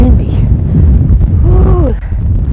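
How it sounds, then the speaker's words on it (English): Strong wind on a sandy beach buffets the microphone in a constant low roar, while a person speaks briefly over it. "It's super windy."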